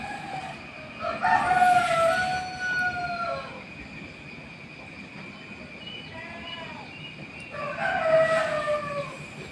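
Roosters crowing on an early-morning village setting, several long cock-a-doodle-doo calls from more than one bird at moderate distance, with a softer crow in between, over steady outdoor background noise.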